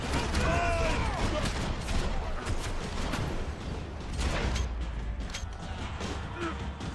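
Dense, rapid gunfire in the video game Max Payne 3, set in a prison, rattles on through the whole stretch with overlapping bursts and metallic clatter, and someone talks over it.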